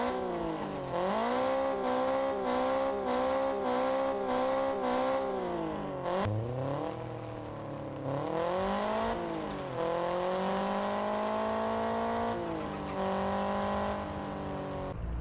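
A 2010 Subaru WRX engine in Car Parking Multiplayer revs repeatedly, climbing and dropping in pitch through several cycles, loud and close with a steady buzzing drone and no talk.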